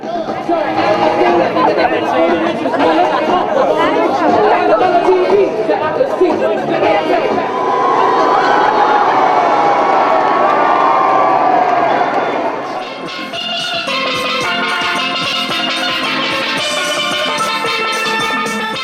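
A large, noisy festive crowd in London chatters and cheers continuously, a dense hubbub of many voices that shifts in tone partway through.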